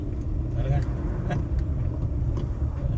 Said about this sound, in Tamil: இன்னைக்கு இவ்வளோ வண்டி வருதுங்க